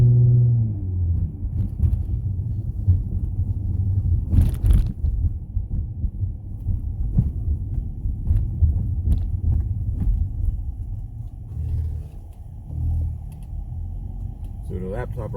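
A Dodge Journey with a sport tune idles after a cold start, a low steady engine rumble with a few mild rises in pitch, heard close inside the car while someone talks over it.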